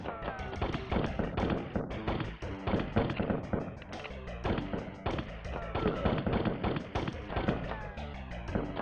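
Rapid gunfire from a crouching character in a retro video game crackles in dense, continuous bursts layered over busy game sound, with voices talking over it.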